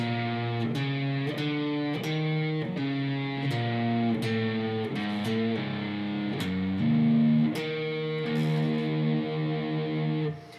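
Slow, complete run through part 2 of a turnaround on overdriven electric guitar, a string of evenly spaced picked notes and bends sounding close and solo, ending with a ringing held note.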